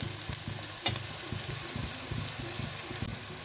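Onions frying in a pan make a steady, close sizzle with bubbling crackle and repeated low stirring scrapes, including one sharper clatter.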